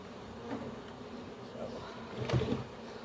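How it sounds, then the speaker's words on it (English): A swarm of honey bees being moved into a new hive box gives a steady, faint buzzing hum throughout, with a slightly louder swell near the end. "There's a lot of bees still in there."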